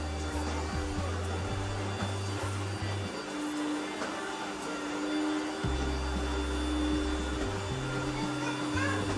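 A Rainbow SRX vacuum cleaner running indoors while cleaning a house, a loud continuous motor whine that steps up and down in pitch as it is handled, close and steady throughout.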